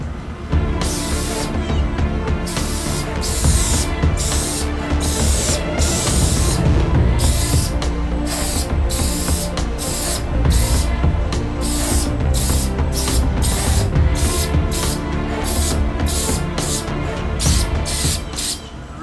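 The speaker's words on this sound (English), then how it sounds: "now I'm going to spray some shellac" Shellac sprayed onto a router-carved tiger wood sign: a loud, continuous hissing spray close by, broken by rapid short bursts as the nozzle pulses on and off throughout.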